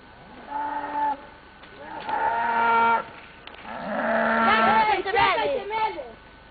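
A cow mooing on a farm during a family visit, several loud, close drawn-out lowing calls in a row, with some vocal sounds mixed in.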